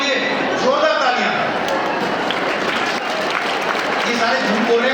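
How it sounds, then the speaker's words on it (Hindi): Loud applause from a seminar audience, dense sustained clapping filling the hall at close range, with voices under the clapping. "कैटेगरी 1 वालों के लिए जोरदार तालियां।"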